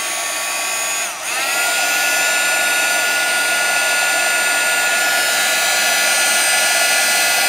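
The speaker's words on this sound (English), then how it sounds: "I always have my heat tool plugged in, so I'm going to turn it on." Embossing heat tool switched on, giving a steady, loud, continuous blowing whir with a brief dip near the start. It runs alone without talk.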